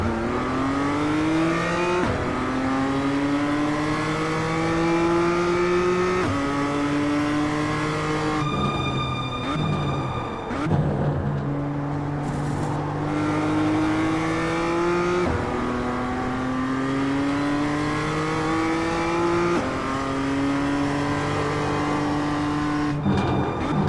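BMW M2 Cup race cars revving hard from a standing start on cold tyres at Tsukuba or VIR in iRacing, engine notes climbing through repeated upshifts, loud and continuous, with a brief tyre squeal partway through.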